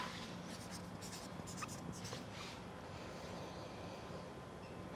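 Pen or pencil scratching on paper while tasting notes are written down, a steady soft scraping with brief strokes, close and continuous under a faint background hiss.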